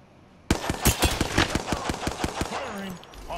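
Automatic weapon fire in the Apex Legends shooter game, a rapid burst of about a dozen sharp, close shots in quick rhythm, trailing into a brief tail of reverberation.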